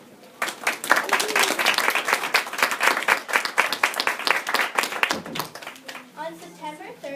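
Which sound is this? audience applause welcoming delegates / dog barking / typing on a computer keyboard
audience applause welcoming delegates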